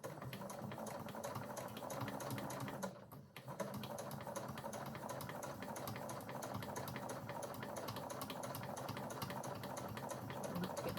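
A sewing machine understitches a waistband seam toward the lining, a dense, even mechanical patter that runs steadily close by, pausing only for a moment partway through.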